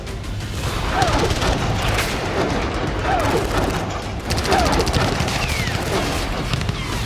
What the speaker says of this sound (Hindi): हर तरफ गोलियों की गड़गड़ाहट है